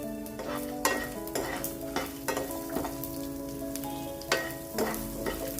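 Fennel, cumin and onion roasting in a dry pan, stirred with a spoon in repeated scraping strokes over a soft, steady sizzle, close and moderately loud with no talking.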